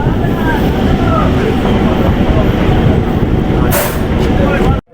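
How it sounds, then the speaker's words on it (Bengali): A train pulls out of Sandhalia station near Basirhat, its steady low rumble and wheel noise holding loud and continuous, with a brief hiss of air partway through before cutting off. "এইমাত্র সন্ধালিয়া থেকে ছাড়লো ট্রেনটা"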